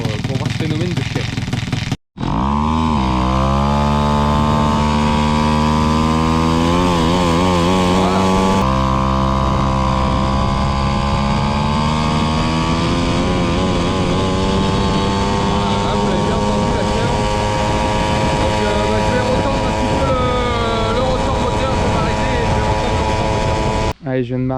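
A Peugeot 103 moped's small two-stroke engine runs continuously up close while warming up, buzzing and rising in pitch as it revs, with a brief cut near the start.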